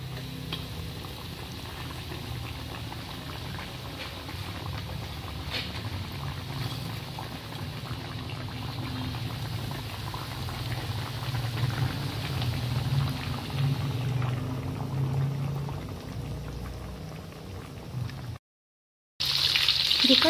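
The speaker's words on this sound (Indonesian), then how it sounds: "Lalu kita goreng." Breaded chicken katsu frying in a pan of hot oil gives a continuous, loud, dense sizzle and bubbling crackle that lasts throughout and cuts off briefly near the end.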